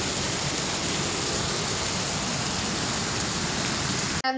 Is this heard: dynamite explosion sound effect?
no